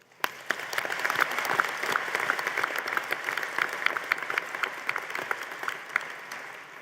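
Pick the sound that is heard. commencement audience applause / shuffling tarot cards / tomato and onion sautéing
commencement audience applause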